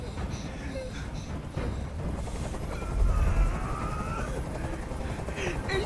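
A helicopter hovers in Detroit: Become Human, a steady low rotor rumble and chop that fills the background, with gunfire-like bursts and dramatic noise mixed in throughout.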